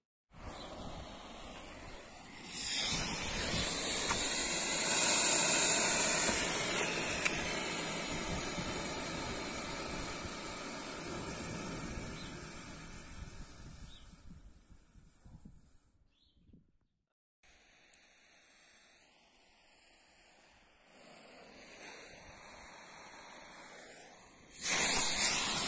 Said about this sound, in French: Là, le moteur brûle à une vitesse normale